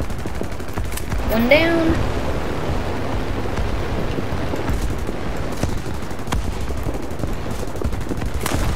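Fighter aircraft guns fire in War Thunder, a British plane's cannons producing a dense, continuous rattle of shots under steady engine drone, with a brief voice speaking early on.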